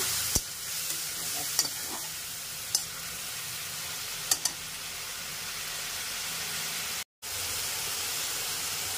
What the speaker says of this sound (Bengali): এগুলোকে ভাজা করতে হবে ভালো করে, ভালো করে ভাজা করতে হবে।